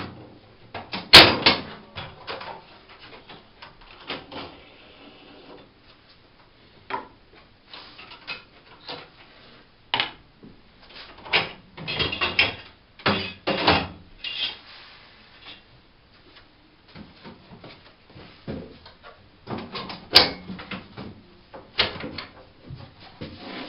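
An auger is pulled from a machine during a valve change, giving scattered close clicks, knocks and metallic clunks separated by quiet gaps.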